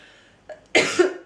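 A single close, hoarse cough from a woman with a lingering cough, preceded by a brief throat noise, sharp and loud against a quiet room.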